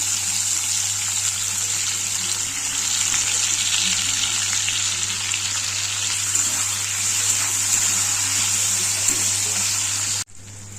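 Potato, onion and capsicum fry in hot oil in a pan, giving a loud, steady, continuous sizzle close by that cuts off abruptly near the end.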